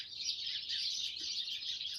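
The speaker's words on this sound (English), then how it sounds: "I saw the birds." Birds chirp outdoors in a dense, continuous twittering chorus, moderately near and steady, with no voices over it.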